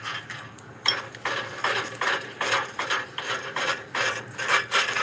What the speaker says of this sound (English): Yep, that's a front wheel bearing.